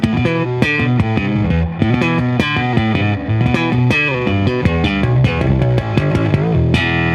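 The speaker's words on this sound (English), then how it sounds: "It's really super bright distortion on the top of everything." Bass guitar notes played through an EBS Billy Sheehan Ultimate Signature Drive pedal's bright, fizzy distortion, a steady run of plucked and slapped notes with buzzy high overtones, loud and continuous.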